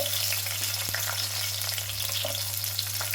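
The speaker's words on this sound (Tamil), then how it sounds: "நல்லா வதங்கட்டும் அங்கே வெங்காயம் பூண்டு நல்லா வதங்கிடுச்சு" Small onions and garlic fry in sesame oil in a pan, producing a dense, even sizzle with light crackles and an occasional stir, close up and continuous with no talking.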